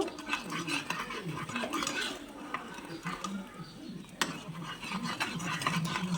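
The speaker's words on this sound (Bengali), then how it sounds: "আবারও ভালো করে মিশিয়ে নেব" A spoon scrapes and clinks against a pan while tamarind chutney is stirred together with salt, black salt, chilli powder and roasted spice powder, giving close, irregular rubbing and tapping sounds with faint background noise.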